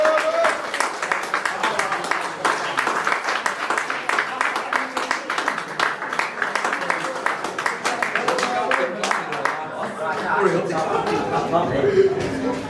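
An audience at an awards presentation claps for Harvey, a dense, continuous patter of many hands close by, with voices talking and chuckling over the applause.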